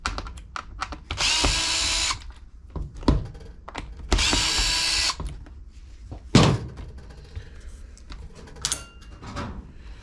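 A power drill whirs in two bursts of about a second each, driving screws out of a Bissell steam mop being taken apart to repair a leak, with clicks, knocks and a thunk of plastic parts around the bursts.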